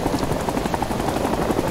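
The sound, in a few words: helicopter in the Plastic Army Men video game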